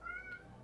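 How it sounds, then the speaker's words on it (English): A single short, faint cat meow, a brief high-pitched cry that fades quickly. "So if you guys hear any meowing"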